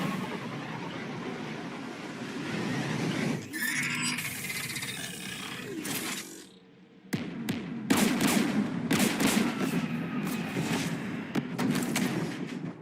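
Gunfire from Geth anti-aircraft guns in Mass Effect 3 on Rannoch rumbles under a roaring wash of noise, with a brief lull midway followed by a string of sharp, repeated blasts.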